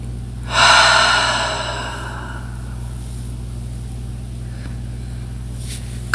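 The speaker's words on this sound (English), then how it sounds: "We're just going to take a few breaths, calming our mind with Hatto breathing." A single long, deep meditative Hatto breath, a loud close rushing exhale that slowly fades away into a steady low background hum.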